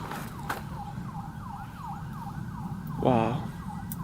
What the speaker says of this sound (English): I hear sirens coming.